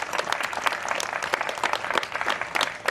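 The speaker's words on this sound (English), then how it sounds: "I want to give you a big clap again" An audience at an annual award ceremony claps steadily, a dense spatter of hands with irregular peaks, moderately loud and sustained without speech over it.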